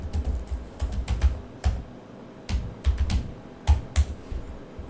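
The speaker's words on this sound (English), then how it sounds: "And just type the password." Password entered on a computer keyboard: bursts of crisp, close key clicks in quick uneven clusters separated by brief pauses, loud and clear with no speech.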